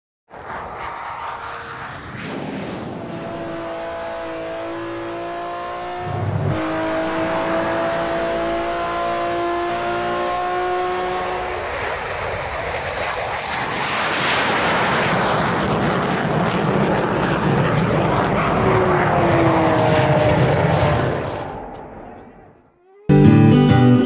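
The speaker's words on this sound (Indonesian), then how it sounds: "Di awal aja Lamborghini sempat memimpin, tapi gak berselang beberapa detik, boom, akhirnya pesawat jet lah yang menang." A Lamborghini races a jet airplane, with a loud sustained engine roar and a rising whine that swell into a heavy jet blast before cutting out abruptly, then a brief loud burst at the end.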